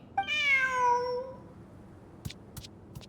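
A cat in Genshin Impact gives one clear, drawn-out meow that falls in pitch, then a few faint soft taps, in quiet surroundings.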